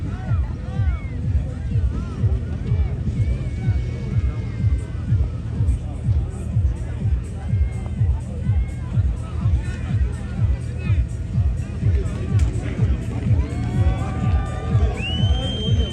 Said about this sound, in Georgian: გესმით გულშემატკივრების ხმა